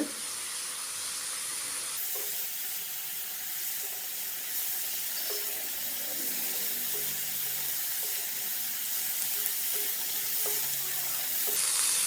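Sliced mushrooms with freshly ground pepper sizzle softly in a pan while a spoon stirs and scrapes in short strokes, heard alone at a moderate level.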